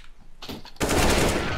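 Burst of rapid automatic gunfire in the video game CS:GO, a loud sustained volley erupting after a brief quieter stretch with faint earlier clatter.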